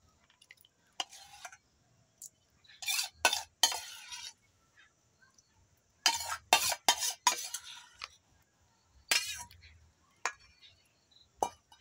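A batter of spinach gravy and water is mixed in a bowl: bursts of wet stirring and spoon scraping with light clinks come in short clusters separated by quiet gaps, close by.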